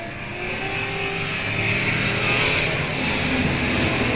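Race cars, including the number 113, roar around the South Texas Speedway in a steady, loud wash of engine noise that swells slightly midway without letting up.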